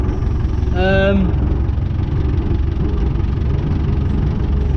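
A David Brown 996 tractor engine runs steadily close by, a heavy low rumble that never lets up, with a brief rising tonal whine near the start.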